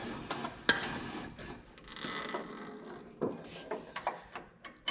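Drive belt being worked off the pulleys of an Exmark Quest zero turn mower, with scattered rubbing, clicks and light metallic knocks at close range, quiet and irregular.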